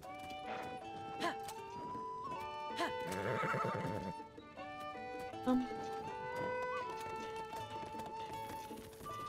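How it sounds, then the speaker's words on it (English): Horse neighing in the video game The Legend of Zelda: Tears of the Kingdom, a clear whinny rising over game music and hoof sounds, with a player's voice talking around it. "Horses really do not want to be controlled."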